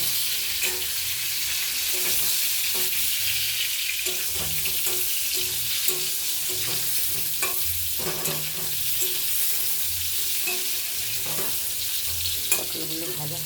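Pointed gourd (potol) fries in a pan with a continuous bright sizzle, close and steady, broken by occasional soft scrapes and knocks of a utensil throughout.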